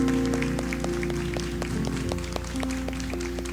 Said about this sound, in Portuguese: Então eu queria uma salva de palmas para essa turma.